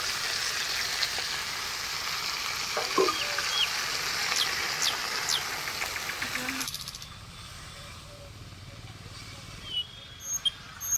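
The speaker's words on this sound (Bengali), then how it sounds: "চিকেনটা দিয়ে দেবো পেঁয়াজের মধ্যে" Chicken pieces frying with onions in a pan with mustard oil, a loud continuous sizzle and hiss that abruptly drops to a quieter simmer partway through, with a few scrapes.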